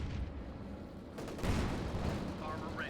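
A grenade explosion amid battle noise in Company of Heroes 2, a muffled burst rising midway over ongoing gunfire, moderately loud and somewhat distant, with a commentator speaking.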